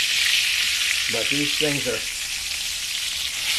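Fish frying in a pan gives a loud, constant broadband sizzle, with a short stretch of talk from a man partway through.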